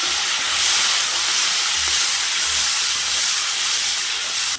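Two tomatoes hit the hot pan of drumstick sambar, setting off a loud, steady, close hissing sizzle that holds evenly throughout without voices.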